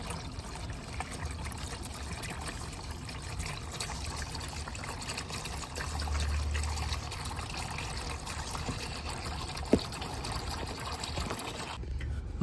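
Engine oil drains from a 2015–2019 Subaru Outback in a steady, close pouring trickle that runs continuously, with one brief sharp tick partway through.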